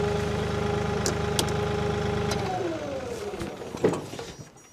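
A 2021 Kioti DK4210SE HST tractor's engine idles with a steady, throbbing diesel chug, then winds down and falls silent midway, leaving a few faint clicks and knocks.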